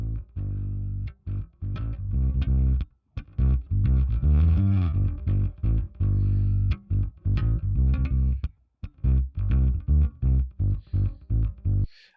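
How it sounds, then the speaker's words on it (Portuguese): A bass track with slight distortion in a music mix plays alone, a steady run of loud, punchy low notes with a gritty, buzzy edge over about twelve seconds. "a gente ouvindo esse baixo aqui, a gente percebe que ele tem um pouco de distorção"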